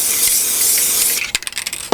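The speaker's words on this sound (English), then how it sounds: "I need to spray out quite a small area" Small spray bottle misting a small area of a model railway embankment before static grass is applied, a soft steady hiss followed by several quick short spray bursts.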